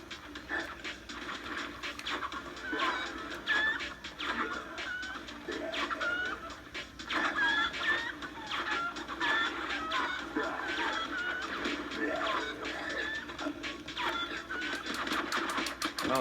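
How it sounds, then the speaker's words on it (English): Clucking chicken noises from the mask power-up in Crash: Mind Over Mutant on Xbox 360, mixed into busy game sound effects and music over about sixteen seconds. "Oh, it makes a chicken noise."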